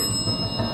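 A bell rings in a sustained, steady chime that fills the brief moment at fairly loud level with no voices over it.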